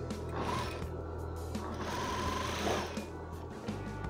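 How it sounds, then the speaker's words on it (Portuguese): A sewing machine runs steadily, stitching a seam on a flared midi skirt with a continuous close mechanical whir and chatter throughout. "Agora eu vou passar mais uma costura, que é onde vai o caseado"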